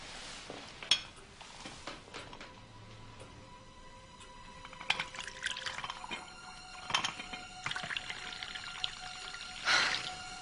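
A drink is poured at a table, soft trickling and liquid splashes with light clinks of glass or crockery, faint and close amid quiet room sounds.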